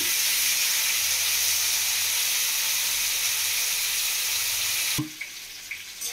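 Raw banana and potato pieces fry in oil, a loud, steady hissing roar filling most of the stretch before it drops abruptly to a quieter sizzle with a few faint clicks.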